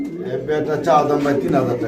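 A pair of white king pigeons coo in soft, throaty rolling calls close by, with people talking over and around the birds.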